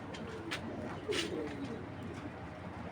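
Large foreign racing pigeons coo softly nearby in a few low, rolling calls against a quiet background.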